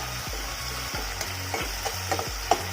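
Onions with tomato paste fry in a pan while a spoon stirs them in repeated strokes, with a steady sizzle running underneath, close and alone.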